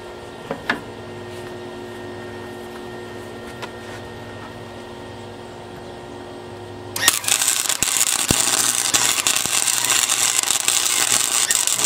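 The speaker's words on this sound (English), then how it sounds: "I'm gonna weld a bead on both sides." A Harbor Freight flux core welder laying a bead on a metal hand rail: after seven seconds of quiet humming, a loud, dense, crackling sizzle starts abruptly and holds steady to the end, with no talk.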